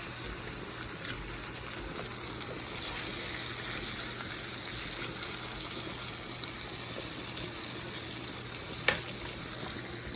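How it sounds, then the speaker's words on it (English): Carrots and onions sauté in a pan for a veal and pork stew, a steady, moderately loud sizzle and crackle that continues throughout with one sharp clink near the end. "Once your carrots and your onions saute for a couple of minutes"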